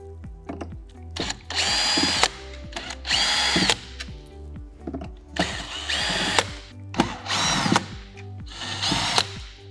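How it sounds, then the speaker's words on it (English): A cordless power drill backs screws out of a Leaf Eater gutter screen on a home's roofline, whirring in short repeated bursts with brief pauses between them and ratcheting clicks as each screw comes free. "I'm using a drill to make this faster"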